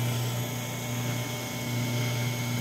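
Electric motor of a power sprayer running under load, a steady loud drone with a constant hum and hiss and no pauses.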